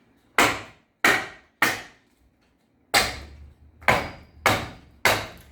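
Nails being smashed into old wood of a roughly 170-year-old ceiling: seven sharp, loud hammer blows, close by, in two groups of three and four with a brief pause between, each ringing out cleanly with no talk.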